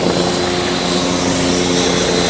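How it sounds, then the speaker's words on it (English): Helicopter on a sightseeing ride over the Niagara River, its rotor chop and turbine whine loud and steady throughout, close by with no talk. "These are the helicopters."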